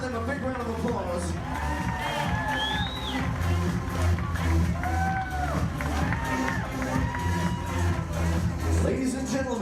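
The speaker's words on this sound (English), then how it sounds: "Give all four of them a big round of applause." Wedding guests greet the wedding party with sustained applause and cheering, mixing clapping with whoops and shouted voices from a lively crowd, loud and continuous throughout.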